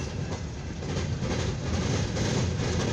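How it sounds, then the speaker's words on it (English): A long CSX empty coal hopper freight train rolls steadily past near Fostoria, Ohio, a loud, continuous rumble with rhythmic wheel clatter and no voices. "this is a CSX train that came all the way from Toledo"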